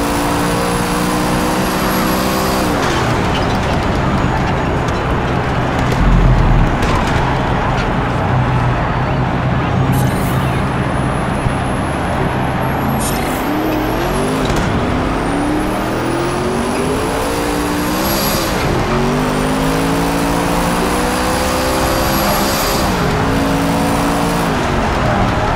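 Hennessey Venom F5 hypercar racing around the Yas Marina circuit in Project CARS 3, its engine screaming loud and close through rising gear pulls with sharp shifts and pitch sweeps.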